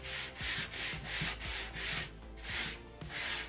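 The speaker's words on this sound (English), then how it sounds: "with a little brush right here, just scrub off the old" Stiff little brush scrubbing wet old fabric off a screen printing platen, a rhythmic back-and-forth rasping in repeated close strokes with no talk.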